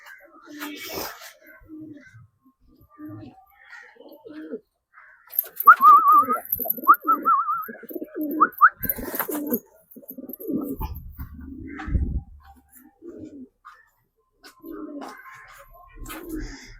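Soft, low coos of highflyer pigeons repeat near and far, mixed with other bird chirps and scattered voices talking nearby.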